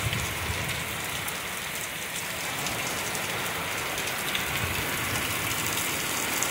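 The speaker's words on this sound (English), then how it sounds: "That's rain going sideways there." Heavy storm rain after dark in Oklahoma, pouring hard and wind-driven in a dense, constant hiss and patter on surfaces close by, steady for several seconds with no voices.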